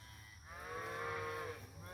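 Cattle and calves bawl in a grassy fescue paddock on a farm, with one loud, drawn-out moo swelling and fading near the microphone against a low outdoor background.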